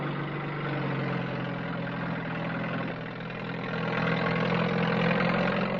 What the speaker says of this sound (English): Some by lorry, some by sledge and tractor, for much of the island is treacherous sand.